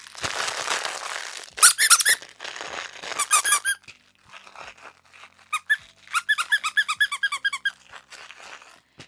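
An embroidered in-the-hoop ladybug plush dog toy, sewn with batting, gives a rustling crinkle followed by repeated squeaks in quick bursts and a steady run of rhythmic squeezes, close and clear.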